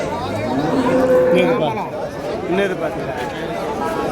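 Cattle, both native breeds and Jerseys, low now and then amid the steady chatter of a crowd at the Vaniyambadi outdoor livestock market, with people talking nearby.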